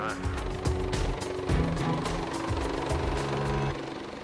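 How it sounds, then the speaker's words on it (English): Air ambulance helicopter departing after a call to a road collision, its rotor producing a steady rhythmic chopping thump with a whining engine drone, fairly close and loud, with faint voices in the background. "You hear the helicopter depart"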